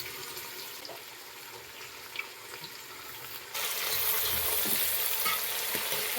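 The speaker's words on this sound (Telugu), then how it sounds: "స్పైసెస్ కొంచెం ఫ్రై అయినాక పచ్చిమిర్చి వేసుకోవాలి. ఇప్పుడు క్యారెట్ వేయాలి." Spices, green chillies and carrots fry in a pan with a soft, continuous sizzle. The sizzle jumps louder and brighter midway as more ingredients go in, close by, with no talking.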